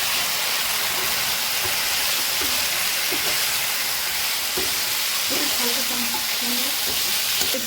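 Chicken 65 balls sizzling in hot sauce in a pan, a steady loud frying hiss throughout with occasional stirring clinks and faint voices underneath.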